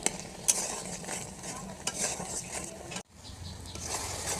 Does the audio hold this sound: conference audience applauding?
no